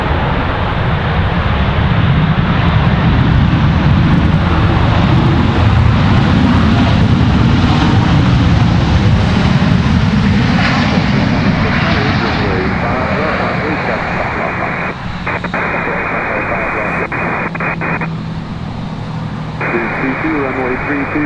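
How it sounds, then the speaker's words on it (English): An American Airlines Boeing 737-800 from Dallas-Fort Worth comes in to land at Raleigh-Durham International, its jet engines giving a loud, steady roar that slowly fades, while a person talks and radio chatter plays. "American 1888 coming in from Dallas-Fort Worth on a 737-800"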